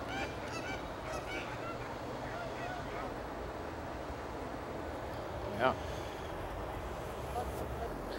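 Canada geese in Bath, England give repeated honking calls, mostly early on, against light wind noise, with people talking nearby and a single sharp honk standing out later.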